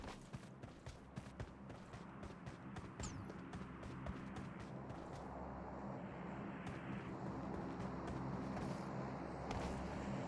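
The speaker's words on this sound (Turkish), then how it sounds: "Bu arada uzaktan bot geliyor." In the video game PUBG Mobile, a distant boat engine drones faintly and continuously, swelling slightly as it nears, with scattered small clicks and taps over it.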